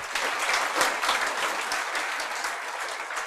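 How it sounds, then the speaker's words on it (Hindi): Seminar audience clapping together in a hall, a loud dense burst of applause that gradually eases off. "तुम तालियां ही बजा रहे हो"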